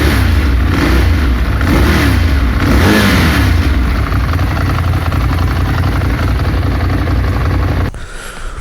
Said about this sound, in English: If you are someone who likes Ducati and like the L-twin sound